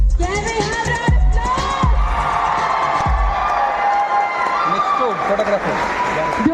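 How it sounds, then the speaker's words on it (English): Crowd at a Hyundai dealership's 25th anniversary celebration applauding and cheering in a standing ovation, steady loud clapping with raised voices throughout, a few sharp thumps, and speech mixed in. "Don't you think Hyundai, Lakshmi Hyundai deserves a standing ovation at this point?"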